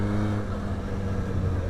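Revving engine of a 2006 Yamaha R1 motorcycle, a steady loud harmonic drone held close for the whole moment without a break.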